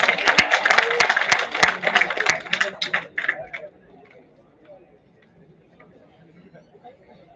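An audience at an international conference claps loudly and densely in a sustained burst that thins out and stops after about three and a half seconds, leaving quiet room tone.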